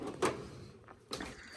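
A drawer on a tool chest slides open with a short rolling scrape and a soft thump, followed by a second quieter slide about a second later, close and moderately loud in a quiet room.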